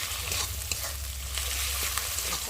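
Spice paste for chicken curry frying in a pan, a bright constant hiss-like sizzle with a few soft stirring taps, close and alone with no voices.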